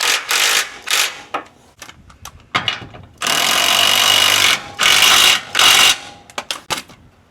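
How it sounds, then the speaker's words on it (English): Ratchet tightening bolts on a Ford Bronco gas tank ski plate, loud and close, in bursts of rapid clicking with short pauses between. "So we're going to tighten it right back using the same bolts."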